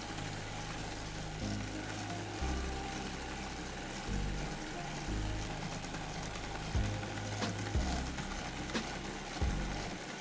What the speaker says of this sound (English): I beat the sugar and eggs until they turn white.